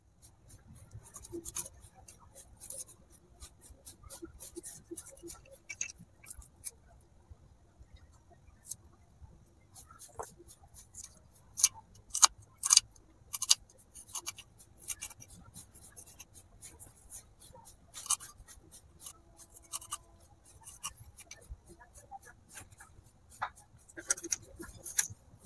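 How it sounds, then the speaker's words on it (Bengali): Onion chopped with a knife on a board for a miniature bread upma, a series of faint, quick, irregular taps close by with quiet pauses between bursts. "প্রথমে আমি পেঁয়াজটাকে কেটে নিচ্ছি।"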